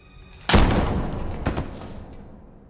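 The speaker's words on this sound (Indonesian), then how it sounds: "Breyer malah menembak Michael dan sontak membuat Victor pun terdiam" A single loud gunshot from a pistol in a crime film: a sharp blast followed by a long reverberating tail, with a second softer impact a moment later, fading out gradually.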